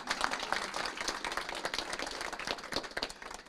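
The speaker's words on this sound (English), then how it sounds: "at this time, we can applaud for that" Audience applause at a city council meeting, a dense steady patter of many hands clapping for a few seconds at moderate distance, with no talk over it.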